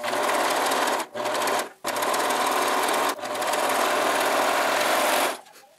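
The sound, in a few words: overlock sewing machine trimming excess fabric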